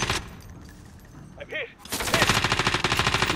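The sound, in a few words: PKM machine gun fire in Call of Duty: Warzone video game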